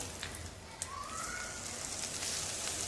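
Cumin seeds tempering in hot oil and butter, a steady soft crackling sizzle with scattered pops, fairly quiet and continuous throughout, a faint tonal whine briefly rising over it.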